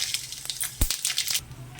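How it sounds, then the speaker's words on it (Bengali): Mustard seeds splutter and pop in hot oil in a wok, a brief burst of crackling, spitting hisses with a few sharper pops, heard close and moderately loud. "তেলটার মধ্যে আমি একটু সর্ষে ফোড়ন দিলাম"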